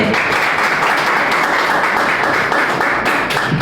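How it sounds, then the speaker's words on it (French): Audience applauding a guest speaker introduced at a talk on the advantages and limits of referendums: loud, close, continuous clapping from a crowd, sustained without a break. "Sur vos applaudissements, s'il vous plaît"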